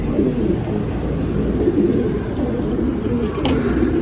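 Pigeons coo softly and continuously in low, murmuring tones at a pigeon loft, with faint outdoor background noise throughout.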